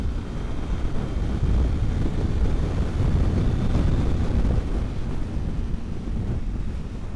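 A Honda CBR300R motorcycle held at full throttle on a highway, at roughly 110 to 120 km/h, with loud steady wind roar buffeting the rider's microphone and burying the engine note throughout.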